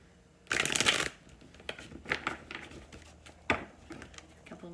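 A burst of riffling card shuffling up close, followed by softer scattered taps and clicks of cards being handled.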